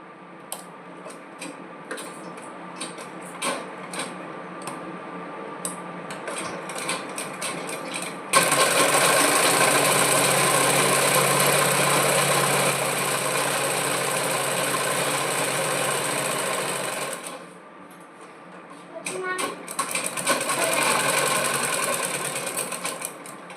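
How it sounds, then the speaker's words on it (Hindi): A sewing machine stitches a blouse up close, with scattered clicks and handling ticks first, then a steady, loud mechanical whir running for about nine seconds, a brief pause, and a second shorter run of stitching. "और अब हम इसकी सिलाई कर देंगे।"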